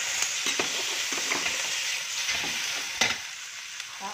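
Shrimp sizzle and fry in a hot pan, a steady broadband hiss with occasional stirring scrapes and pops, close and fairly loud, with no talking.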